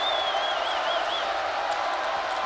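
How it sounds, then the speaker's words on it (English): A basketball arena crowd in Evanston roars during a Purdue at Northwestern game, a steady, loud wash of cheering and applause with a faint whistle-like tone drifting through it. "now this crowd coming to life here in Evanston"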